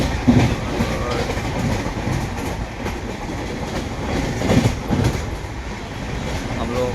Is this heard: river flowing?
no